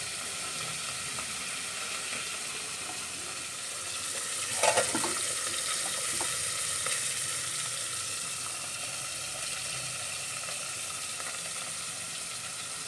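Fish frying in oil in a pan, a steady close hiss and sizzle throughout with a brief louder crackle partway through, no talking.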